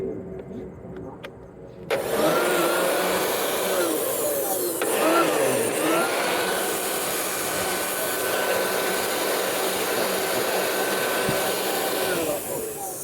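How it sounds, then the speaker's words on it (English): A blower starts up after about two seconds and runs as a loud, steady roaring whoosh, blowing debris away close by. "Let me blow everything away."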